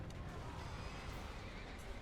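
Horse neighing in the video game Dark Souls 2, a whinny mixed into steady game noise with a voice speaking over it.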